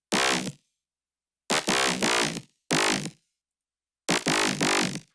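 A synthesized bass line plays in four separate bursts with silent gaps between, a buzzy, harmonically rich tone with no other instruments.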